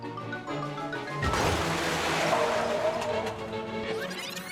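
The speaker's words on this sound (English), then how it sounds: "As the white car skids down the road, our dashcam car doesn't seem too worried." A white car skids along a road, a broad rising rush of tire noise swelling over steady engine hum and holding loud for several seconds, heard from a nearby following car.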